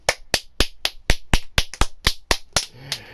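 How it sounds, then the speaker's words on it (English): A quick run of about a dozen sharp, crisp claps made with the feet sounds up close in an indoor room, evenly spaced and loud, followed by faint trailing noise. "Can I get a round of feet? Because we clap with our feet in here."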